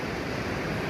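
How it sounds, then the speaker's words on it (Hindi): Clear glacier-fed river water flowing past a mountain riverbank on a winter trek in Garhwal, a dense, steady rushing hiss filling the moment without any voices. "और ये नदी का किनारा है भाई। क्या शानदार जगह है, और बिल्कुल ग्लेशियर से निकला हुआ साफ़ पानी है।"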